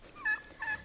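Bronze-breasted heritage turkeys gobble on a farm, two short warbling gobbles in quick succession with a third starting, moderately loud and slightly distant.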